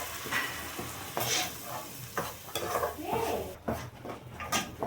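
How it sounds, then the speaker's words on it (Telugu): Onion paste with ginger garlic paste frying in a pan, a steady close sizzle with repeated scraping stirs of a utensil against the pan. "ఉల్లిపాయ ముద్ద అల్లం వెల్లుల్లి పేస్ట్ వేసి వేగిస్తారు"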